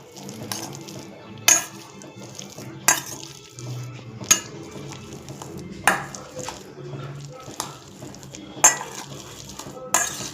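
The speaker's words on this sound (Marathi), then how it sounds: "याला आपण मॅश करून घेऊया" Boiled potatoes are mashed in a metal pot, the masher striking the pot bottom in regular sharp clinks about every second and a half, with softer squishing between.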